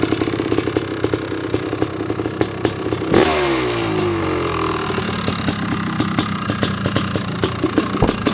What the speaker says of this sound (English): This is a Super-Moto bike that Honda should have built.